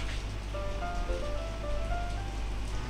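Steady rain falls in the Doki Doki Literature Club video game, a continuous even hiss with a low hum beneath and soft tonal music lines drifting over it.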